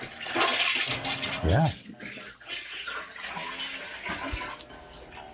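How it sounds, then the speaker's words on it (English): A toilet flushes in a home bathroom, a broad rush of water filling the clip at close range while a voice speaks briefly over it. "you're going to hear the sound of a flush"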